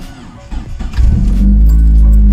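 A car engine cranks after its battery has been charged, a short starter whirr that catches at about one second and settles into a steady, loud, close idle rumble.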